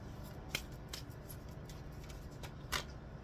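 Soft papery riffling of tarot cards being shuffled, a few quiet bursts with sharper snaps near the start and end, faint and close with no talking.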